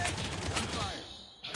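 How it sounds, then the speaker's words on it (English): Gunfire from a video game bursts in a rapid, dense volley for about a second, then drops away to quiet before a short final burst, close and sharp. "You did hear gunshots!"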